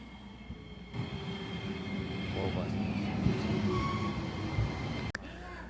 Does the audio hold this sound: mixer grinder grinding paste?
no